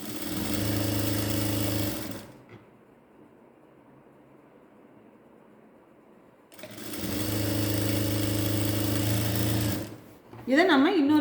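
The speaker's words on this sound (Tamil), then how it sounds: "டபுள் தையலாக போட்டுக்குவோம் ஏன்னா பேண்ட்டுக்கு டபுள் தையல் வேணும்" A sewing machine sews a double seam on ladies' straight pants, running in two long, loud, steady bursts with a quiet pause between and a brief rustle at the end.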